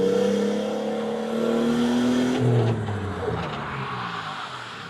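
A car engine revs while the driver pulls the handbrake and steers. The tone climbs and holds, then drops sharply and settles to a lower drone. It sounds close and loud, with no speech.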